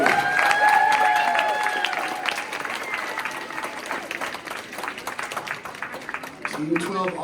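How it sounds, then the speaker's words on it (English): A crowd at a math league tournament applauds Team 12, with steady clapping near and far mixed with cheers and a high whistle or shout, carrying on under talk at a fairly even level. "Please give a round of applause for Team 12"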